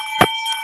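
A handheld bell gives a single sharp strike with a bright, sustained ringing tone that lingers briefly, loud and alone.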